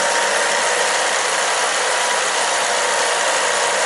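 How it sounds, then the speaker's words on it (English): Ford Zetec car engine idling steadily, a constant broadband hum and hiss with no change in rhythm, heard alone throughout. "And engine must be running all time."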